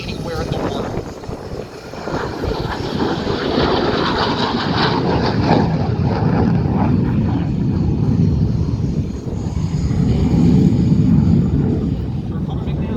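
MiG-17 Fresco jet fighter at an air show, flying a minimum-radius turn over show center; a loud, continuous engine roar rising and swelling, with voices mixed in.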